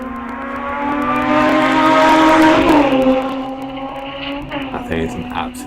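Tim Monk's Fisher Fury race car with a supercharged Hayabusa engine at a circuit sprint, its high-pitched engine note climbing loud and near, then easing off as it passes, with commentators talking over it.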